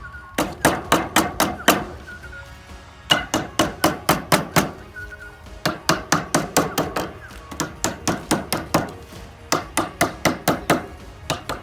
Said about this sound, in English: I'm going to choose now to use a hammer to hit up the corners of these sheets here